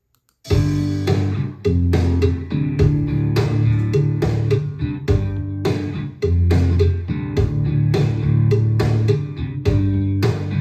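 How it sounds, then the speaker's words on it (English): A full band mix with drums, bass and keys plays steadily, a cowbell knocking out a regular beat in the background. "You can hear the cowbell banging away there in the background."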